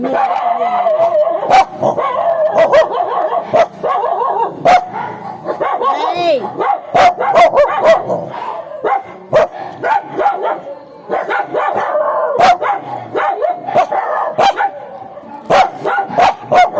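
Several dogs bark loudly and repeatedly in sharp, overlapping bursts, with some yips and whimpers, close by and continuing throughout while people talk underneath.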